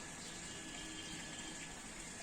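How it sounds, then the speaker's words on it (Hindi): Tap water gushing steadily in the early morning as containers are filled at home, a constant loud rushing hiss with no breaks and no speech. "ये देखिए सुबह सुबह नल आ रहे हैं,"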